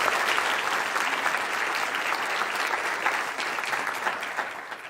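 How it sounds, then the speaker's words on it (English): An award-ceremony audience claps in sustained, dense applause that stays loud and even before tapering slightly at the end. "Let's give them a round of applause."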